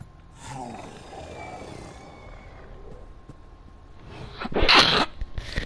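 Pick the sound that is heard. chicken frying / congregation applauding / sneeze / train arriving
sneeze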